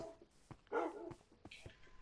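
A wolf-dog in Minecraft: PlayStation 4 Edition gives quiet, clipped in-game barks and yips in several separate bursts against a faint background.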